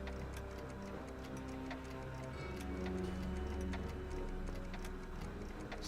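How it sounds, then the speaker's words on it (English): A clock ticks steadily in the Back to the Future video game, a faint, even rhythm of soft clicks running under low background ambience, with no voices. "Something about that clock looks familiar."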